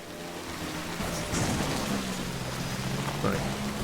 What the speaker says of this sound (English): This rain ain't letting up, is it?